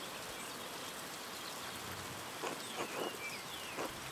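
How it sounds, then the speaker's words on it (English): Rain falling in the medieval-style video game Pentiment, a steady soft hiss of drops with faint chirps and a few brief louder spatters toward the end. "Look at this rain."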